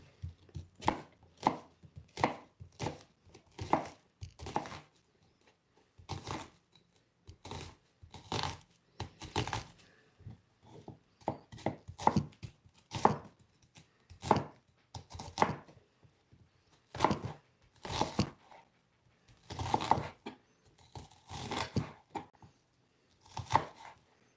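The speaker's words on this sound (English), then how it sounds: "We are done with the onion chopping." A knife chops onion on a cutting board in sharp, close bursts of rapid strokes separated by short pauses, repeated over and over with no talking.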